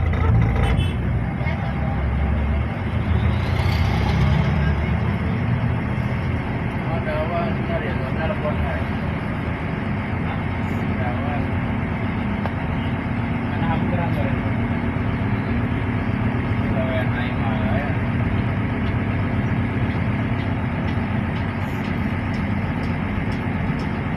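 A city bus travelling from Bogor to Jakarta drones steadily along an outer ring road, a continuous engine and road rumble heard from inside, with speech over it.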